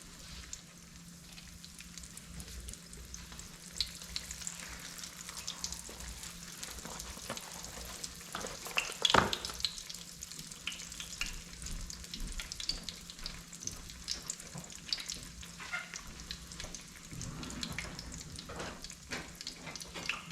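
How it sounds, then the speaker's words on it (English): Apple pies, two at a time, fry in hot oil in a pan set to 300, giving a faint, steady sizzle with small crackles and an occasional clink throughout. "We want to fry these till they turn golden brown."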